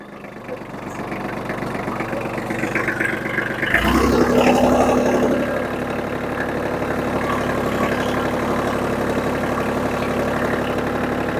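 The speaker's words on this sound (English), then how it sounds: "It's only a little 35 horsepower tractor" A small 35 horsepower tractor idling and working steadily while cutting swales, a continuous engine drone with a brief louder surge partway through, no talk.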